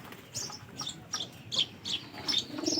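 Pigeons in a village loft give a run of short, faint chirping calls, repeated in quick, uneven bursts against a quiet background.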